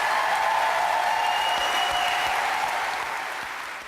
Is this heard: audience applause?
yes